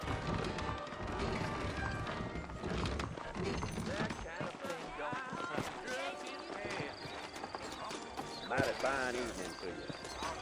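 Saddled horses in the Old West setting of New Austin in Red Dead Redemption, with hooves clip-clopping and tack rattling under steady conversation and background music.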